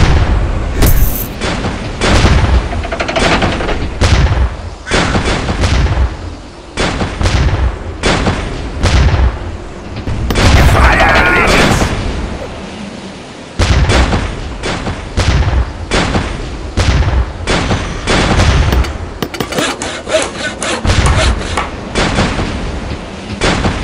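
Cannons boom and guns fire in a steady barrage of loud, overlapping blasts during a castle defense battle in the video game Heroes and Castles, with crackling volleys and no break in the action.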